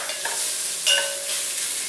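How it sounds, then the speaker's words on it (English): Minced garlic, ginger and onions sizzling in a pan for a vegan noodle soup, a close bright hiss with a brief stirring clatter partway through, short and steady. "So I'm going to be putting in some minced garlic and ginger and onions."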